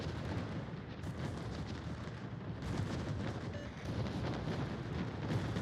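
Naval shells striking a warship in World of Warships, a steady barrage of heavy booms and cracking impacts layered over rumbling battle noise, fairly faint.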